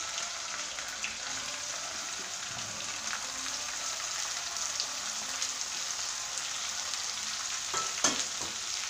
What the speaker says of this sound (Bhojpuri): ये देखल जाए एमे हम प्याज डाल दले बाटी।